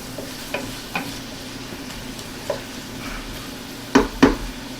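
Vegetables for German red cabbage sauté in a pan with a low, steady sizzle, broken by a few sharp scrapes of stirring and two louder clanks near the end; no voices.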